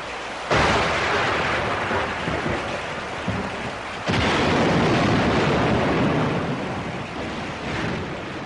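Storm thunder from a classic Filipino film rolls in a loud, deep rumble that breaks out suddenly, eases, then bursts again, over a steady wash of heavy rain.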